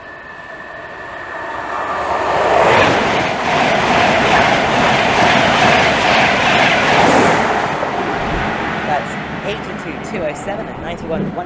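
A Virgin Trains East Coast express runs through Stevenage station without stopping, a loud rushing roar with rail clatter that rises, holds for several seconds and then fades. A voice talks over the passing.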